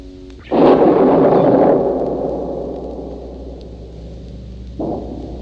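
A thunder crack from a stormy-night scene on a 1970 audio LP: one sudden loud burst rolls into a long fading rumble, followed by a smaller second boom.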